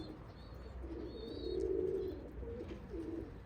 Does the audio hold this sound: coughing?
no